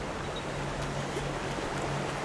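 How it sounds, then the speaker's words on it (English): A waterfall in the Guild Wars 2 video game gives a steady, dense rush of falling water. The sound stays even and fairly loud throughout, with no voices over it. "Yep, there's a waterfall over here."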